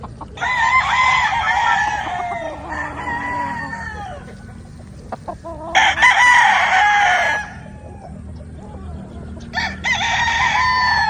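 Six-month-old pure Possum gamefowl roosters, a first local batch on a farm with ground wet after rain, crow repeatedly in loud drawn-out calls. Steady clucking fills the gaps between crows and no talk is heard.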